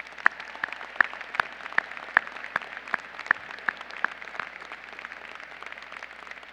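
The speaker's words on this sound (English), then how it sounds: "Please join me in giving them a huge round of applause." Sparse, scattered clapping from an audience at an undergraduate university commencement ceremony, individual hand claps standing out over a soft hall ambience rather than a dense ovation, moderately faint and without talk.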